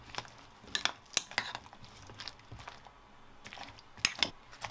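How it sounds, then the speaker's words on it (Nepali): Utensil clinks and scrapes against a pan as zucchini is stirred into a vegetable mixture, several sharp taps in uneven clusters, faint and close, with no talking. "अब जुकिनी पनि राख्ने र त्यसलाई पनि राम्ररी मिक्स गर्ने।"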